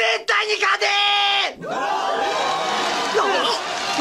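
A loud crowd roars and cheers at a table tennis match, with shouting voices rising over the din, continuing throughout.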